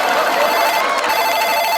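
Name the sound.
telephone ringing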